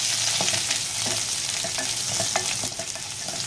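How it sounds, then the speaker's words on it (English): Fresh curry leaves and coarsely ground garlic frying in mustard seed oil over low to medium heat, a steady close hiss and crackle broken by soft scrapes of stirring, with no talk. "I'm going to throw in the fresh curry leaves and the coarsely ground garlic. And we're just going to fry this on a low to medium heat"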